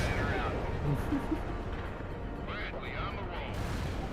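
Explosions from a city bombardment in World in Conflict: Soviet Assault rumble as dull, low blasts and crashes. Someone talks over the gunfire throughout.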